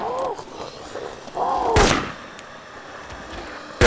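A single sharp gunshot rings out in the DayZ survival game, loud and close, near the middle of a short stretch of quiet game ambience with a few faint tonal sounds, followed later by another abrupt loud hit.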